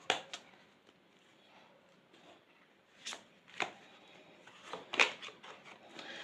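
Tarot cards being shuffled by hand, a soft papery riffling with scattered louder slaps and flicks in an irregular rhythm, close and quiet, with no talking.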